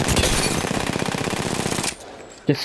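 Gunfire with a Wingman pistol in the Apex Legends video game: a dense, rapid run of loud shots for about two seconds, a brief lull, then one more sharp report.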